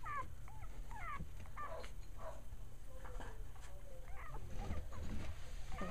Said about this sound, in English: Here are the puppies, 2 days old.